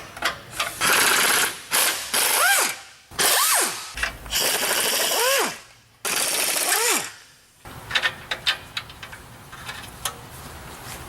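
A ratchet wrench works loose an oxygen sensor on the exhaust of a Nissan 370Z during a test pipe install, sounding in several bursts of rapid clicking close by, with a few shorter clicks and mechanical knocks afterward.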